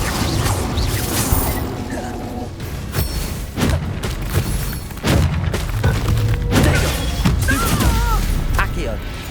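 Incendio fire spell in Hogwarts Legacy combat, a cluster of loud booming bursts, thuds and crackling impacts with clattering debris, a voice shouting the incantation amid the fight.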